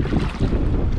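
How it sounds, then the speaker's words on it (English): A wind gust sweeps across a cold lake, with the water around 42 degrees, while someone fishes from a boat; loud, continuous buffeting roar fills the whole second with no voices. "Oh, there's that wind gust right there."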